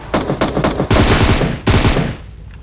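Automatic gunfire in a shooting video game, several rapid bursts with short pauses between them, loud and close, no talking.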